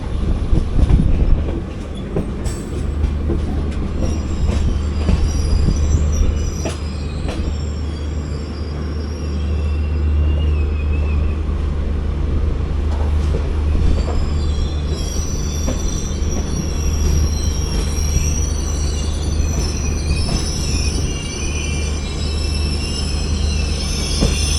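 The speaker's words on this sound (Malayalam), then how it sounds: "ഇപ്പം നമ്മൾ ജസ്റ്റ് ലൂപ്പിലോട്ട് കയറുന്നു ബണ്ടവല സ്റ്റേഷൻ്റെ" The 16575 Gomateshwara Express with a Vistadome coach enters the loop line at Bantwal station, heard from on board as a continuous low rumble of wheels with repeated high squeals from the rails throughout.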